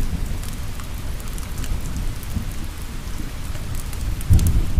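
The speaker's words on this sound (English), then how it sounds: "let's take a quiet moment to just appreciate the abundant rain." Steady abundant rain falls in a dense, even hiss with low rumbling underneath, loud and close throughout with a slight swell near the end, and no voices.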